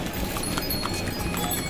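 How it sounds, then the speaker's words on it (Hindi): Horses' hooves clip-clop along the crowded Kedarnath pilgrimage trail toward Gaurikund, a busy, continuous backdrop of hoofbeats mixed with general outdoor bustle at moderate distance. "और आगे से आ रहे हैं घोड़े, जिनसे हम लोग सभी को बचना है,"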